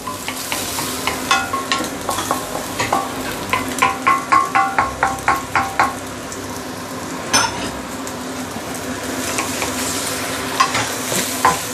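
Noodles and carrot stir-fried in a stainless steel pan for chow mein with dark soy sauce, steady loud sizzling with a run of rhythmic scraping and clinking strokes of the utensil against the metal.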